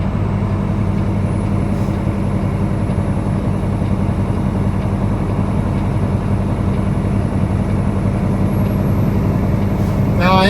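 Heavy semi truck rolling downhill in 8th gear with its engine brake set to maximum, a loud steady low drone and rumble throughout, with a voice talking briefly over it.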